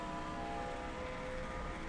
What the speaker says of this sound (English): Listening for Kurt Busch's engine.